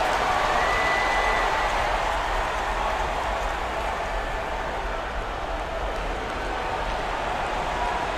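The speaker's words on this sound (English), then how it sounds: "And this crowd can't get enough of it." A dense, steady roar of an arena crowd cheering at a New York Knicks versus Dallas basketball game in NBA 2K21, with constant loudness throughout and no clear voices standing out.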